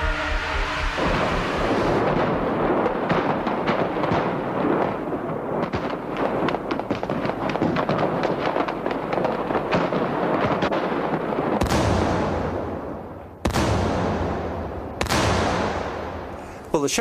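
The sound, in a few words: gunfire and explosions in an attack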